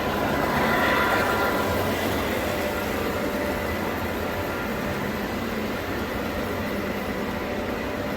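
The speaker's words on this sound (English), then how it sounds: "Here comes another train." A passenger train rolls past at a railway crossing in Lubbock, Texas, a loud, steady rumble of wheels and cars that holds for the whole stretch and eases off only slightly toward the end, with no talk over it.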